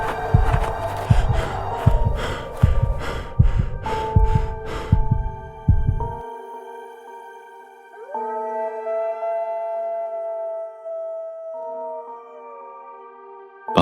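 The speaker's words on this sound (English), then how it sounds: "The sound of his heartbeat louder than the wind." A heartbeat sound effect for a haunted winter tale: about six seconds of deep, loud, regular thumps, then they stop and sustained eerie tones and hums carry on alone.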